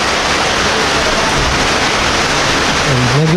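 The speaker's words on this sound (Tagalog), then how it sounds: "Malakas na naman yung ulan." Heavy rain pours on a roof, a loud, dense, continuous hiss throughout, with a voice speaking briefly near the end.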